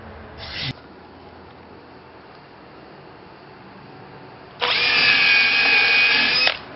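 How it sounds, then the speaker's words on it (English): A power drill drives screws into wood while a horizontal Long Langstroth beehive box is assembled, giving a short burst near the start and then a steady, loud whirring run of about two seconds at the end, with a quiet pause between. "I'm going to clamp up and just start screwing together."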